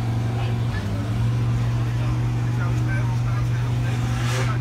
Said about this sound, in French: les moteurs sont déjà en train de chauffer